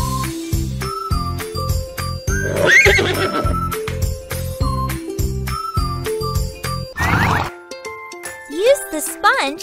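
Cartoon baby pony neighs and whinnies in a horse-care kids' video game, mixed with tinkling musical chimes and bright synth melody tones throughout.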